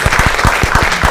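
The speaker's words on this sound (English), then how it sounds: "can you just please give them all a round of applause?" An audience at a launch event applauds briefly, with quick, even, close claps forming a short burst.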